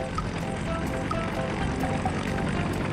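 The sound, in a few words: helicopter rotor blades starting to spin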